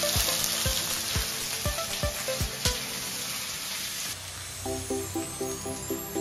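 Onions fry in a pan with a steady, close sizzle and soft crackle, and a few faint taps as they are stirred.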